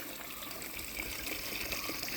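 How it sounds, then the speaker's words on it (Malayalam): Stream water runs through an irrigation pipe on a cardamom estate in Idukki, giving a faint, steady gushing hiss with no talk. "ഈ വെള്ളം തോട്ടിൽ നിന്ന് വരുന്ന വെള്ളമാണ് കേട്ടോ"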